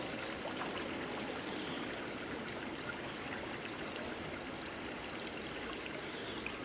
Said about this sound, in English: We're pouring this as a blessing for the family to our ancestors.